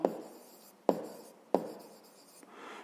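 A pen writes an answer by hand on paper in three short, distinct strokes at close range, each with a sharp start and a fading scratch, followed by a faint final touch.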